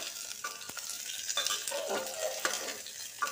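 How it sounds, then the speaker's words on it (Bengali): Bottle gourd pieces stirred and fried in hot oil with cumin and radhuni, a steady close sizzle broken by scraping strokes of a spatula and a few louder clatters against the pan. "কিছুক্ষণ নাড়াচাড়া করে নিচ্ছি।"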